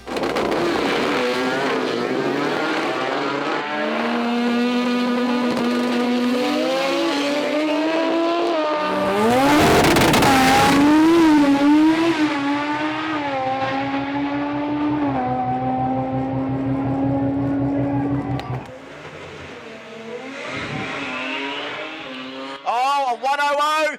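Drag race cars at a Brisbane Pro Compact event roar loudly and continuously, engines revving and climbing in pitch as they accelerate, with a brief throttle lift and re-application, while a commentator talks over them throughout.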